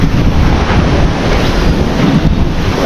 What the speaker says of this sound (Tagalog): Ayun, lakas ng alon, no?